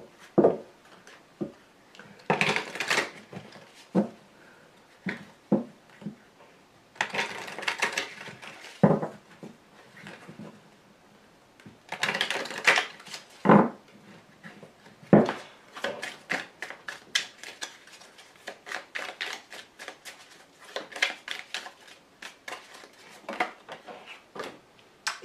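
Tarot cards are shuffled, tapped and laid down on a table: soft scattered flicks, rustles and small slaps in irregular bursts, quiet and close, with no talking.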